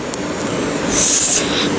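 A train passes close by at a station in Wronki, Poland, a loud steady rumble and rush of noise with a brief high squeal of wheels or brakes near the middle.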